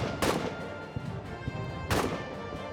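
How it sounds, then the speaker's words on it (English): Artillery fire in the trench warfare game All Quiet in the Trenches: two sharp, loud blasts about two seconds apart over a rumbling battlefield bed, with smaller thuds between them. "Our artillery is doing nothing."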